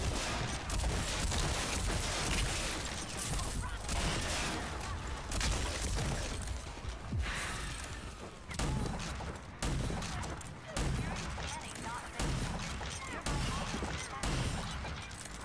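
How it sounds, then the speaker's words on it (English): Dense enemy gunfire from the video game Rage 2 rattles almost continuously, loud rapid bursts with booms and crashes mixed in, filling the whole stretch. "Why is everybody shooting at me?"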